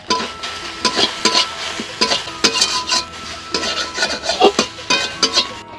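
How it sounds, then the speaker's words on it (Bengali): A spoon scrapes and clatters rhythmically against a pan while stirring oil with salt, turmeric and chili powder, repeated close, sharp scraping strokes about every half second, with no voices. "লঙ্কা গুঁড়া দেওয়া হয়ে গেছে এখন আমি একটু নাড়িয়ে নিচ্ছি"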